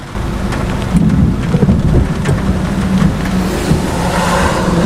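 Heavy rain pours steadily during a close Florida thunderstorm, with deep rolling thunder rumbling underneath throughout; loud and continuous, no voices.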